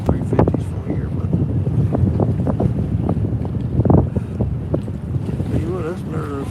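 A boat powered by large outboard motors of about 700 horsepower runs out on the water, its engine roar mixed with heavy wind buffeting the microphone in uneven gusts, at moderate distance.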